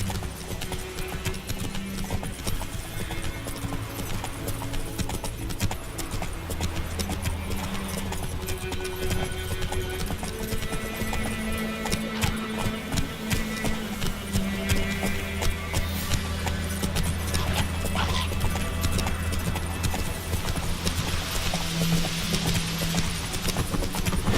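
Horse hooves clip-clop steadily on the ground throughout a ride in The Witcher 3, a continuous even rhythm mixed with game music and ambient sound.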